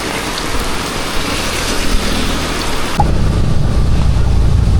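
Heavy rain pours down steadily on Siargao Island, a loud dense hiss that stays constant throughout and grows heavier and deeper partway through, with no voices.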